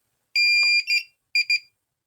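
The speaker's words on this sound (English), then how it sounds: "We then hold our goggles till they beep" A high electronic beep tone from DJI FPV goggles binding to an O4 Air Unit Lite, one longer stretch with a stutter, then a pause and two short beeps, clear and alone.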